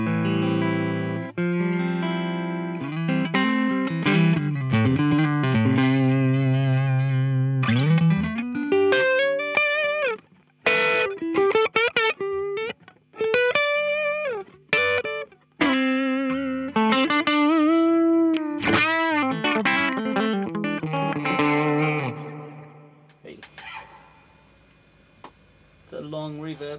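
An electric guitar runs through a Marshall Origin 20 head set clean with a long reverb. Sustained chords and single notes ring out, with a few short gaps, and a long reverb tail trails off at the end. No one speaks.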